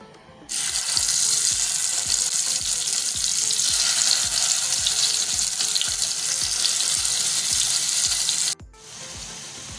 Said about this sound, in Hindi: फिश को मैंने हर तरफ से अच्छे से फ्राई कर लिया है